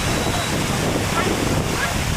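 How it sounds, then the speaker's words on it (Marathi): Rushing water from a monsoon-fed waterfall in the Amboli Ghat, a steady broadband roar that fills the scene without a break, close and loud, with some wind buffeting the microphone. "इकडे ते पाणी जातं धबधब्याचं."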